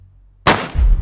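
A single loud gunshot in DayZ, sharp crack with a ringing tail and a low rumbling echo after a moment of quiet.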